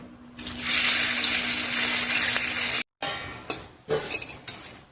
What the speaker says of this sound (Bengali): এবার এইগুলো তেলে ভেজে নেব।